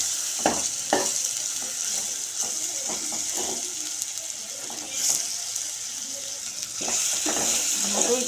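Tomatoes and chillies fry in hot oil with a steady bright sizzle while a utensil stirs and scrapes the pan in irregular strokes. The sounds are close and continuous, and the sizzle swells near the end.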